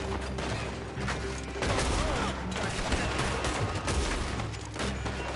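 A volley of gunshots in the video game Red Dead Redemption: a busy run of overlapping shots and impacts, fairly quiet in the mix, with a faint voice underneath.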